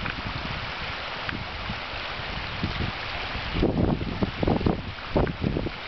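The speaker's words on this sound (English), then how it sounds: "The creek is still running, you can still hear it." A creek runs in a valley with a steady rushing hiss, broken by louder gusts of wind buffeting the microphone in the second half.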